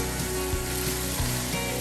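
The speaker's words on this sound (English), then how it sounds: "this is just the frying process" Chicken curry fries in a pan with a steady, close hiss of sizzling oil that stays even throughout, with no voices.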